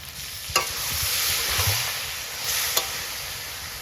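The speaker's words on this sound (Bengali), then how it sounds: "জিরে, তেজপাতা, শুকনো লঙ্কা, এলাইচি সব ঢেলে দিলাম।" Cumin, bay leaf, dried chili and cardamom dropped into hot oil in a home kitchen, a close, steady sizzle and hiss with a couple of sharp clinks of utensil on pan.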